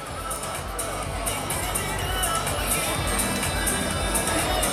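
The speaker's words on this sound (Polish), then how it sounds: "Wielkie brawa dla Karoliny, srebrna medalistka dzisiejszej rywalizacji." A crowd at a dance competition award ceremony for a silver medalist in the 13-year-old solo disco dance category applauds and cheers in a dense, continuous wash of clapping and voices, loud and steady throughout.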